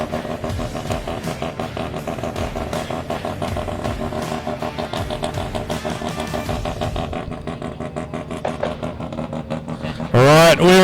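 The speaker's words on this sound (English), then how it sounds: "That other noise you can hear is the Honda drags in the background." Honda drag racing cars roar in the background at a motorsport park, a steady engine drone beneath nearby talk that ends with a sharp rising rev.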